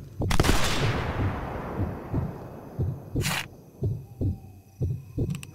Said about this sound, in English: Damn, the sound echo of the rifle is unbelievable.